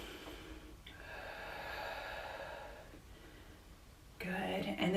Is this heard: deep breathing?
yes